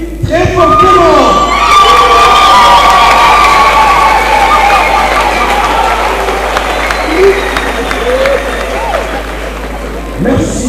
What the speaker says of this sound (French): je vous prie de vous lever et de l'applaudir très fortement